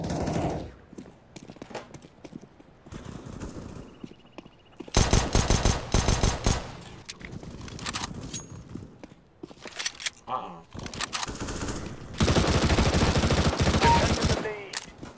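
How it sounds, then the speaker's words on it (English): Bursts of pistol and rifle fire in a CS:GO match, rapid cracks in clusters with a long dense volley near the end, a player's voice talking over parts of it. "Killed someone with a pistol."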